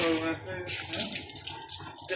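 Water left running from a tap, a steady, moderately quiet gush and patter that continues without pause, with faint voices in the background.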